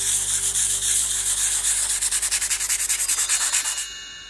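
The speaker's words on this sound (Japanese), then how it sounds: "ヤスリはセリアで買ったサンドペーパーっていうやつです。" A keychain is rubbed with hundred-yen-shop sandpaper, a fast rhythmic close scratching of about twenty even strokes that stops abruptly near the end, with no speech.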